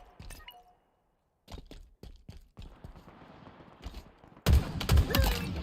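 Halo video game gunfire, bursts of sharp shots separated by gaps, then a dense, loud flurry of rapid fire near the end.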